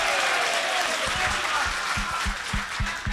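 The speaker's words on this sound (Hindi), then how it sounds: "आप अपने लिए एक बार जोरदार तालियां बजा लीजिए" A crowd claps loudly and steadily, a dense wash of applause with no voices standing out.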